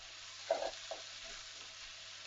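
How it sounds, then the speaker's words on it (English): Sliced peppers and onions frying in a pan while being stirred, with a steady soft sizzle and a few scraping stirs near the start, close and quiet, no voices. "And now we're going to add in the peppers. And mix it all in."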